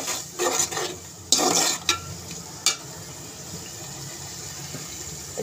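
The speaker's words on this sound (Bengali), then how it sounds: "উপকরণ দিয়ে ভালো করে আমি এগুলো কষিয়ে নেব" Fish being sautéed with spices in a pan, a steady sizzle with a few sharp stirring scrapes early on, then settling into an even frying hiss.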